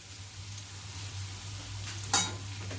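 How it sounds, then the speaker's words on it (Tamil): Carrot poriyal stirred in a pan just after the lid is lifted, a soft steady sizzle under a low hum, with one brief scrape of the spoon near the end. "திறந்துட்டு கிளறி விடுறேன்."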